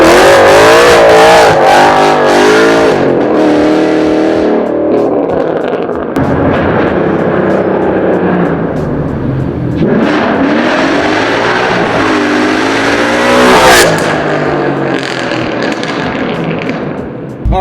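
The Bludini car on Toyo Proxes R888R tyres accelerating hard in a pull, a loud roaring engine that climbs through rising revs with gear-change dips and pops, heard close up from inside.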